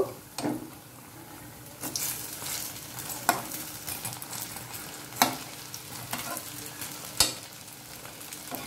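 Cabbage pakoras fry in hot oil with a steady sizzle while a utensil flips them, giving several sharp scraping clicks spaced a couple of seconds apart. No one speaks.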